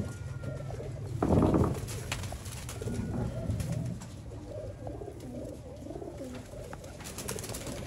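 Red-eyed pigeons coo in soft repeated rolling calls close by in a loft, over a low background hum with a brief louder rustle early on.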